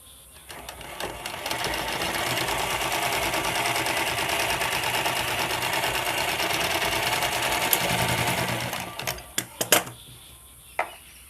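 A close, loud sewing machine runs steadily for about eight seconds while stitching a blouse back hook strip, its rapid mechanical chatter continuous before stopping, followed by a few sharp clicks and handling knocks.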